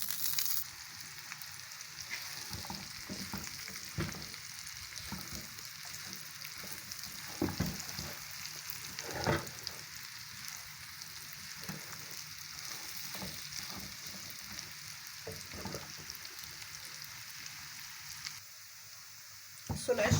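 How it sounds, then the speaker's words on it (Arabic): Bread frying in clarified butter (samna baladi) in a home kitchen, a steady, fine sizzle with occasional crackles and stirring clinks, with a voice speaking faintly at times. "هنا بقى هحط حته سمنه بلدي عشان احمر العيش"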